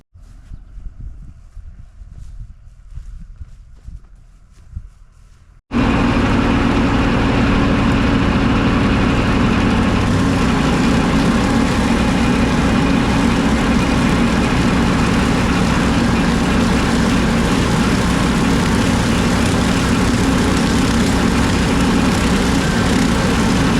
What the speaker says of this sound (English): We got it attached to our John Deere 5101, and we'll see how she goes.